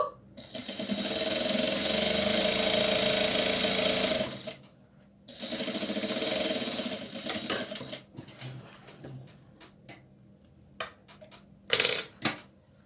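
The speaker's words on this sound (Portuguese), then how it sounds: "Vou fechar as duas laterais." A sewing machine stitches the side seams of small doll shorts in two long steady runs of fast close whirring, followed by short bursts and clicks as the stitching stops and backtacks.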